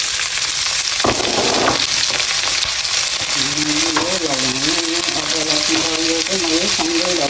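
Onion, ginger and garlic fry in a hot pan for a Nepali-style chicken pasta, a loud continuous sizzle with occasional stirring scrapes, and a faint tonal hum appearing partway through.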